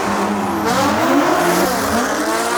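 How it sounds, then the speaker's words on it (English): Two Nissan GT-R cars launch hard off a street race start, engines roaring loudly as they accelerate together with a brief tire squeal, the combined exhaust note climbing steadily. "Both cars take off."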